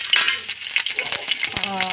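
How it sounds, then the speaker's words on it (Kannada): Green and dried chillies, cumin, mustard seeds, asafoetida, garlic and curry leaves sizzle and crackle in hot coconut oil as tempering for raw mango appe huli, a steady close spitting fry with a brief voice near the end. "ಈಗ ಒಗ್ಗರಣೆನ ಹಾಕ್ತಾಯಿದ್ದೀವಿ."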